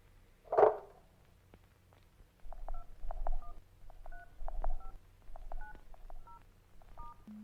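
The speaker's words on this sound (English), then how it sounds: "you could hear the physical click of the button and the dial tone beep for each button he pushes" Telephone buttons being pressed in a film scene, a sharp click followed by a run of clear, distinct DTMF dial tone beeps, one per key, with faint low background hum and no talk.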